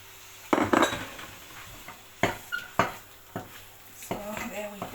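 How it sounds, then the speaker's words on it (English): Chikanda is stirred in a pot, with a series of sharp metal spoon scrapes and knocks against the pot's sides at irregular intervals, close and fairly loud, and a voice talking between strokes. "Let me continue stirring."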